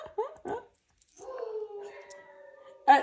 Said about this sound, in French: Ah si, mon chien, il s'y met.